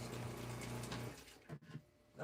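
Water runs from a tap in a van as the tank empties, a soft continuous flow with a pump hum that stops abruptly about halfway, followed by faint sputtering and low room noise.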